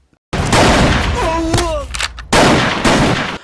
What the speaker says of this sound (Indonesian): Deraj kemudian membawa keluar Nintya dan mengajak Agastya untuk beradu senjata.